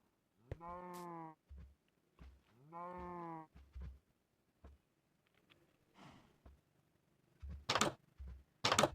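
Two long, harmonic Minecraft cow moos with game sounds between them, joined by a few short bleats and bursts of noise toward the end.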